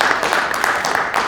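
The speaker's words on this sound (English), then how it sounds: "So, a big round of applause to Ravi." Dense clapping from a conference audience honoring a volunteer, a steady patter of many hands that fills the short moment without pauses.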